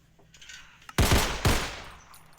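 Gunfire from a modded MG42 machine gun in the video game Minecraft: two short, loud, sharp bursts fired close together, with no talking.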